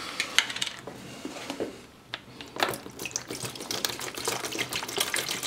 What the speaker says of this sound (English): So I'm just gonna pour it in there.